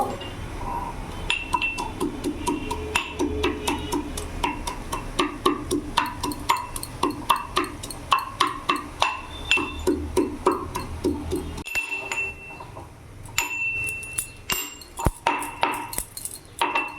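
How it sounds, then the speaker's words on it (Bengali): Roasted peanuts are pounded in a mortar and pestle with a steady run of sharp, hard knocks and clinks that continue for a long stretch, a few brief pauses breaking the rhythm. "হামল দিস্তাতে কুটে নেব।"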